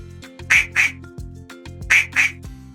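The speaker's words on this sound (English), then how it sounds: "It's a duck." Duck quacking in two pairs of loud, nasal quacks, close and clear with a short pause between the pairs and no talk.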